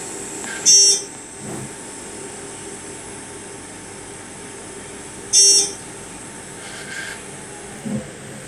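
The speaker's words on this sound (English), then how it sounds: "Buzzers are loud." An elevator buzzer at an elevator testing facility, two sharp, high buzzes about five seconds apart, loud and alone over a steady background hum with faint clunks between.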